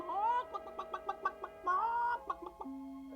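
A cartoon chicken clucks in a quick, bouncy series of nasal squawks, close and clear, ending with a drawn-out cackle and a steady tone.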